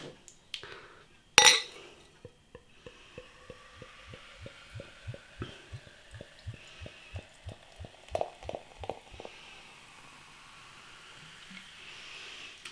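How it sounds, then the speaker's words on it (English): Andechs Weissbier Dunkel, a dark German wheat beer, glugs from the bottle into a glass in a steady run of quick, evenly spaced pulses that speed up slightly, close and moderately loud, after a sharp clink at the start. "Let's get the beer out into a glass and see what we get."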